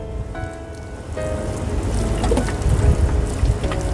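Water poured over freshly covered soil on top of planted curly chili seeds in a garden, a steady close splashing and trickling patter that swells and continues throughout.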